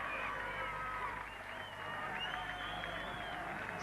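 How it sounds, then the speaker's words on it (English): Applause from a small cricket crowd after a wicket falls in a 2002 Pakistan v Zimbabwe one-day international, a steady, fairly faint patter of clapping spread across the ground with no talk over it. "Small, appreciative crowd."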